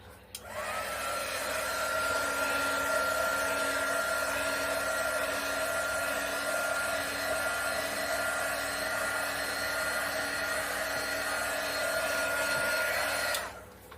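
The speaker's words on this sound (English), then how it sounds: "I'm quickly going to run a heat gun over it" Heat gun blowing over a silicone Dutch pour resin painting, a steady airy whine that switches on, holds evenly for about thirteen seconds, then cuts off.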